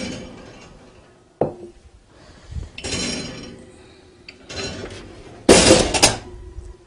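A hot metal baking pan is pulled from an oven for bread making, with a sharp clank, scraping and several loud metallic knocks and rattles spread out over a few seconds.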